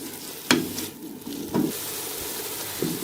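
Vegetables including peas frying in a pan for vegetable macaroni, a soft continuous sizzle broken by three scraping stirs of a spoon, close and moderately quiet, with no talking.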